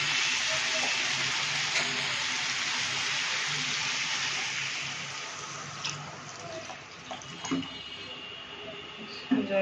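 Water pours steadily into a pot of gourd and potato curry, a continuous broad splashing wash that tapers off near the end with a few small clinks.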